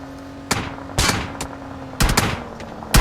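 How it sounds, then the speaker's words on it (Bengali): Bursts of video game gunfire crack out in short volleys, each followed by a fading tail, with a steady low hum running underneath and no talking. "আমারে ফায়ার দিতেছে"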